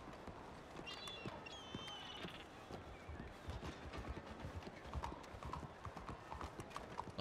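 Horse hooves clip-clop at a quick, steady gait in a western-themed video game, the rhythmic clatter continuing throughout with a few brief whistling tones early on and faint background noise.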